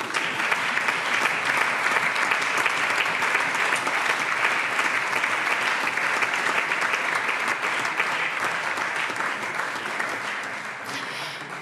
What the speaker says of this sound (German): man hat es vielleicht schon an dem Applaus der Kollegen gehört